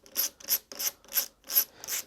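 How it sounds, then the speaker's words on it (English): Six evenly spaced ratcheting clicks of a screwdriver backing out small screws from the cover of a Denon PMA-2000 amplifier, crisp and close with short pauses between strokes. "So I'm gonna take out these screws first"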